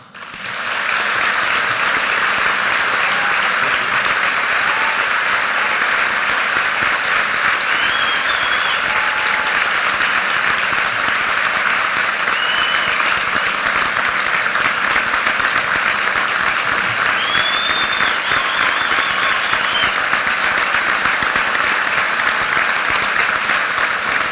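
An audience at a commencement ceremony applauds to welcome the speaker, producing dense, sustained clapping that holds steady and even for the whole stretch.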